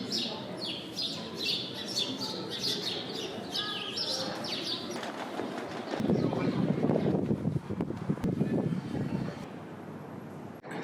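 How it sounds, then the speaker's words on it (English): Small birds chirp busily in a city center, the bright twittering clustered in the first half, with traffic-like rumble and a passing aircraft swelling underneath toward the end. "Lots of little birds in there."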